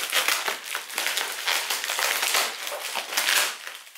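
Close-up crackling and crinkling of bubble wrap and packing tape as a taped makeup parcel is unwrapped, with irregular sharp crunches and rustles in quick succession, loud and near.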